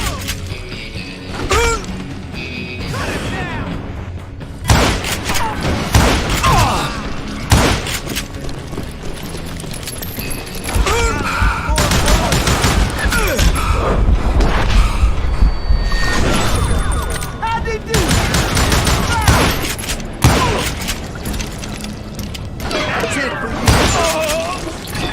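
Gunfire in a Call of Juarez Gunslinger shootout with the Wild Bunch crackles in loud, repeated bursts of sharp shots over about twenty-five seconds, mixed with game effects and narration.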